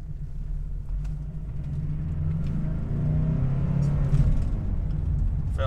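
A Mitsubishi Shogun Warrior with fault codes 12 and 52 being driven, heard from inside: a steady low engine rumble and road drone that swells slightly as it accelerates, with no talking.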